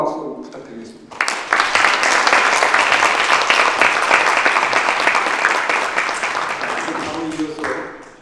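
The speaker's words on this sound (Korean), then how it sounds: "이분께 뜨거운 박수 부탁드리겠습니다." Audience at a Korea–Japan organ donation symposium bursts into sustained, loud applause for the third panelist, a lawyer, after some speech at the start, holding steady for several seconds before tapering off.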